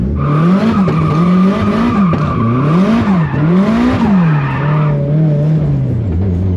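A 900 hp Nissan Skyline running an understeer figure 8 to warm its front tires: loud, continuous tire squeal swelling and falling with each turn, over a droning engine that rises and dips in pitch, heard close.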